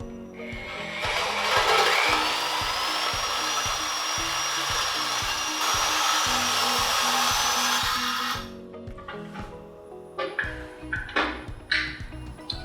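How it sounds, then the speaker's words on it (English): A bimetal blade power-sawing through the neck of a bagger motorcycle rake, a loud continuous whining cut for about eight seconds, then the saw stops and rhythmic rattles and clanks follow. "In this circumstance, it'll cut the whole neck without any trouble, without having to replace the blade."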